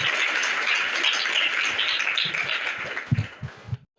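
Schoolchildren and audience at a junior high school quiz in Varanasi burst into loud, dense applause for a correct answer. It holds steady for about three seconds, then thins into a few scattered claps before stopping abruptly.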